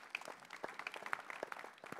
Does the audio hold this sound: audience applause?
yes